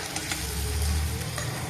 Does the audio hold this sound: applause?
no